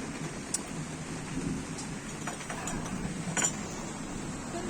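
Heavy rain falls in a steady, fairly soft wash with faint crackles and distant thunder rumbling now and then. No one speaks.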